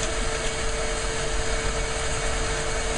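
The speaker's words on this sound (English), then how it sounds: "I'm trying to film a steam engine here." A running steam engine fed by a boiler gives off a steady, unbroken mechanical drone with a constant hum, loud and close, with no voices over it.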